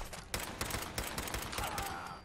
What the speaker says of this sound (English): Come on, shoot him. Shoot him some more.